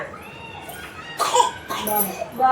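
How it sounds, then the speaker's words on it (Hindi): A child coughs in a few short, rough bursts, with a young voice and some vocal sounds mixed in between. "मेरे बच्चे को खांसी बहुत आ रही है"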